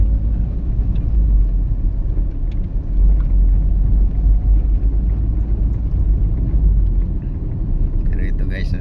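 Vehicle driving on a road on the way home from the market, heard from inside: a loud, constant low engine and road rumble with rattling, steady for the whole stretch with no breaks.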